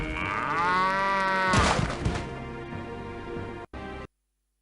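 A cow in the video game The Journeyman Project 2: Buried in Time gives a long, loud, drawn-out moo, then a shorter burst that cuts off abruptly into silence.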